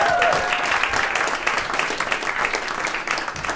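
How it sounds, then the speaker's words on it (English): A live audience claps and applauds steadily at an evening talk event, a dense, loud wash of hands that carries on throughout without a break. "I get another round of applause for Miriam."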